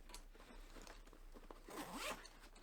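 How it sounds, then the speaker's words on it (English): A beefy zipper on a travel backpack is drawn open with a rough, rasping zip that swells to a louder pull near the end, heard close up with no talking. "Around the top, you've got nice beefy zipper."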